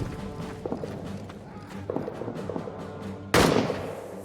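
Scattered rifle and machine-gun fire crackles across a World War I trench battle in a video game, with several distant shots, then one loud close blast near the end.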